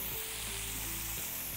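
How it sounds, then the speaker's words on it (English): Marinated flank steak sizzles steadily in hot olive oil in a pan, a dense continuous crackle and hiss with faint clinks and stirring noises underneath, close and moderately quiet with no voices. "So we're gonna throw this on the pan here. You're gonna hear it sizzle."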